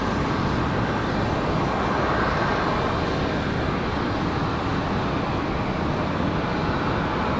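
An Airbus A321 airliner passes at Raleigh-Durham airport, its engines giving a loud, steady broadband roar that holds throughout with no talk.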